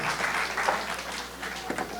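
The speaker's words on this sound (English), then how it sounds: "Give yourselves a round of applause here." Audience applause at a Caribbean comedy show, a short burst of diffuse clapping from the crowd, moderately loud and fairly even, fading slightly toward the end.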